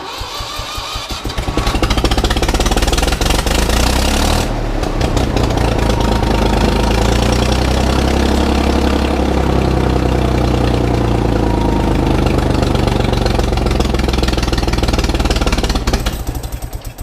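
An old Ford tractor engine cranks briefly, catches and settles into a loud, steady, knocking idle that runs on at close range with no talking.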